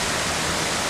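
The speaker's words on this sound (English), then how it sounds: "it's a waterfall" A waterfall in the Laos countryside sends up a brief, even rush of falling water, a constant hiss with no voices over it.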